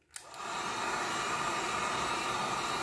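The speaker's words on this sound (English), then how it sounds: "with a heat gun or hair dryer, all I'm going to do is hit this with a little bit of heat." Heat gun or hair dryer blowing hot air onto a guitar pickguard, a steady broadband rushing roar that starts with a click and runs continuously, close and alone.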